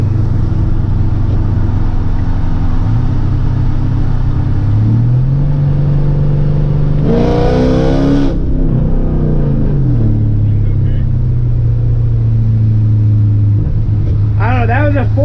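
A Mercedes CLK55 AMG accelerating hard on a wet road, its engine drone holding steady, then climbing in pitch through a strong surging pull before settling back into a continuous close rumble.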